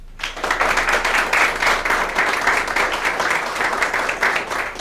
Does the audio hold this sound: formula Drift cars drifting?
no